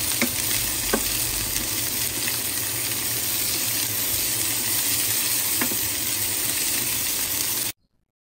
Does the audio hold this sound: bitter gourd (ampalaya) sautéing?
yes